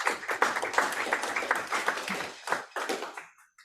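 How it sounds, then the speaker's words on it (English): Members of an Afro-Latin jazz ensemble clap for one another, a loose, uneven round of nearby hand claps with irregular bursts that tapers into scattered final claps before stopping. "Can you please give each other, yourselves, a round of applause"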